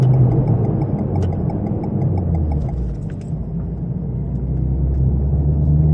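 A car's engine on a racetrack, a loud, steady rumble that dips slightly as it brakes and downshifts, then swells again, with no talk over it.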